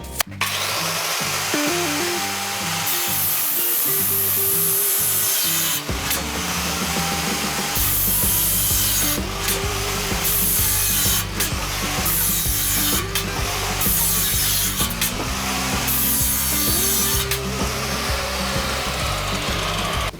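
A loud GRAND circular saw whines continuously as it cuts through a 50 mm wooden board, with the motor pitch dropping and rising under load throughout.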